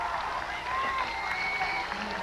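A crowd cheers and applauds as triathlete Joanne Ernst leaves the transition area, a dense continuous roar with a commentator talking over it.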